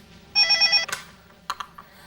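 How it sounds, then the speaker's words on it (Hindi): A telephone rings with one short electronic trill burst, followed by a few faint clicks and handling noises, with no voices. "लाशनाथ जी का तो मैं कल सुबह तक वक्त दिया था, कितने जल्दी फोन कर लिया।"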